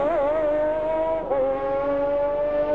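A race car at the 1997 Le Mans 24 Hours howls past at high revs, the engine tone holding steady with a brief dip as it runs wide, loud and close.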